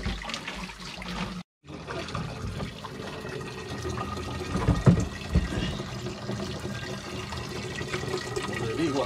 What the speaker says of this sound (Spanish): Mira cómo va saliendo el agua ahí